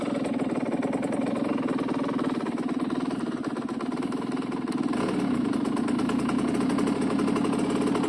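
A Fantic 50cc motorcycle engine idles while warming up after starting, a steady rapid putter at moderate loudness with a slight dip and change in tone midway, with no talking over it.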